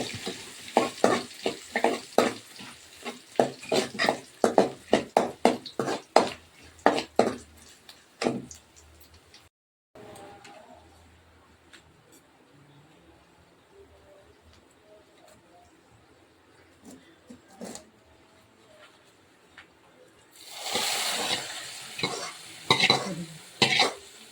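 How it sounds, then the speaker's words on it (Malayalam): Tempered mustard seeds are poured into a pot of ozhichu curry, with a sharp sizzling burst near the end after earlier rhythmic spoon stirring and clicking in a home kitchen. "ഇനി നമുക്ക് കടുക് വറുത്തത് കറിയിലേക്ക് ഒഴിക്കാം"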